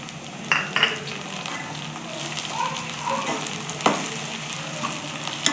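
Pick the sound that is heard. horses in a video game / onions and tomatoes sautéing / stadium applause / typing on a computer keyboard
onions and tomatoes sautéing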